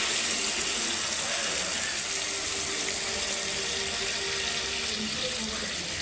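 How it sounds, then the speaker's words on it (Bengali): Water poured into a pan of yogurt chicken curry while cooking, a steady, continuous splashing gush that runs throughout. "এবার আমরা জল দিয়ে নেব।"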